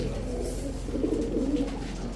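Pakistani teddy pigeons, a male and a female, coo in low rolling murmurs close by, the throaty notes swelling slightly midway.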